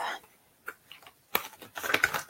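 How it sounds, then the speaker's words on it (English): Deck of tarot cards being shuffled by hand, scattered soft taps and then a burst of quick riffling flutter, close and fairly quiet with no voice. "So I like to give my card decks a good shuffle and see what comes up."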